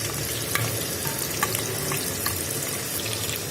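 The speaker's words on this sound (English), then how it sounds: "Fry it well." Ingredients for a South Indian fish curry fry in a pan, giving a steady, dense sizzling hiss with small crackles and pops, close and continuous, with no voices.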